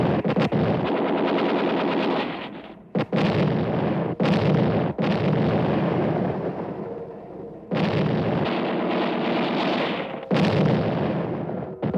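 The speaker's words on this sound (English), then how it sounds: "The Allies re-embark under German artillery fire and the Luftwaffe's Stuka dive bombers." WWII German artillery fire and Stuka dive-bomber attacks, heard as long loud roaring barrages broken by sharp blasts and brief gaps, harsh and dense throughout.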